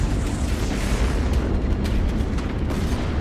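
A bomb detonates in the space combat game Strike Suit Zero, a loud, dense, rumbling blast that fills the whole clip with sustained low booming and crackle.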